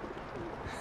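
A pigeon aboard a ship gives a brief, low, soft coo close by in a period Chinese drama scene.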